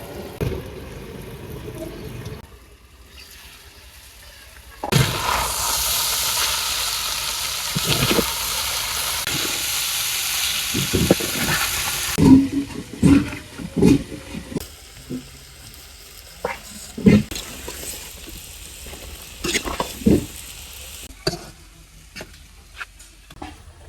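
Vegetable bhaji frying in a pan in a Bengali village kitchen, a loud steady sizzle and hiss for several seconds, then softer crackling with sharp clatters of stirring and utensil knocks.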